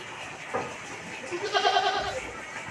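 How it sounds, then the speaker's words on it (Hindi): A male goat bleats in a rural yard in the early morning, giving one clear wavering call with a fainter sound just before it, heard fairly close over quiet background. "बकरा इधर से बोल रहा है,"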